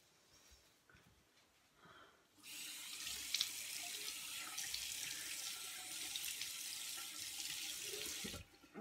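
A bathroom tap runs steadily into a sink for several seconds during face washing, a close, even hiss of water that starts abruptly after a quiet moment and stops near the end.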